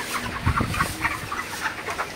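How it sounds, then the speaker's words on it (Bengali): Broiler chickens on a poultry farm in Faridpur cluck and chatter in a close, busy flock, with overlapping short calls. "আজকে সকালে আপনাদেরকে মুরগির ভিডিও দেখাবো যে মুরগিগুলা কেমন আছে সকালে"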